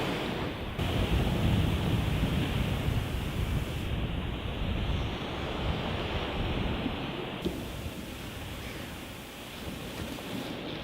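Ocean waves on the coast at high tide, a steady loud wash of surf with wind noise, continuous with slight shifts in intensity and no voices.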